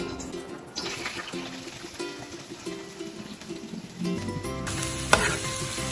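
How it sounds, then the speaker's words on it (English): Onion and garlic sizzle steadily in hot oil in a pan, a constant hiss that grows louder with a sharp clink as they are stirred. "First, I need to saute onion and garlic that I prepared before."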